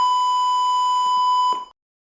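A simulated speaker in the SimulIDE circuit simulator gives off a steady, loud electronic beep tone that holds evenly for about a second and a half, then cuts off into silence.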